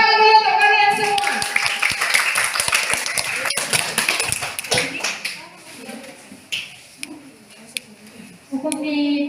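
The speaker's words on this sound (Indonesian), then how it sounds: "Tepuk tangan dulu untuk kalian semua." Students clap for each other in a classroom lesson, a burst of scattered, uneven claps that tapers off, with a teacher's voice talking before and after.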